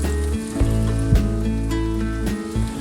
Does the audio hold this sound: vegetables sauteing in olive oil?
yes